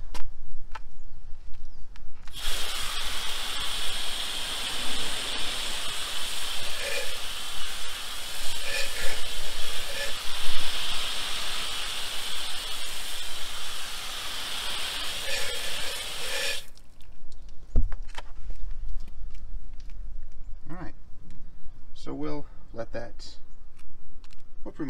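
Pressure-washer spray rinsing a car during a weekend wash, a steady loud hissing wash of water running for about fourteen seconds before cutting off, with brief talk and handling sounds around it.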